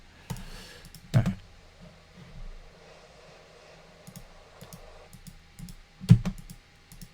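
Sparse clicks, probably from a computer mouse, come during DaVinci Resolve editing work. Two sharper clicks and a few faint taps sit over a low room hum, with no talking.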